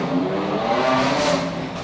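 A Ferrari 360 revs on a street during a supercar gathering, a loud, close engine roar that holds steady and rises briefly before easing off, with no talking over it.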